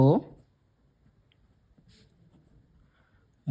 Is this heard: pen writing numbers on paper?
yes